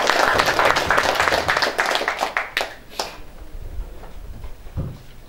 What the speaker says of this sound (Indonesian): Tepuk tangan dulu untuk Pak Bayu.